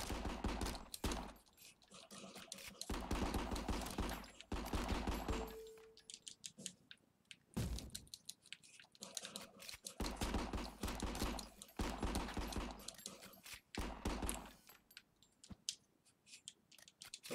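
Dense bursts of video game gunfire from shooting enemies in RICO on Nintendo Switch, rapid overlapping shots with a few brief lulls, fairly loud and continuous through most of the stretch without speech.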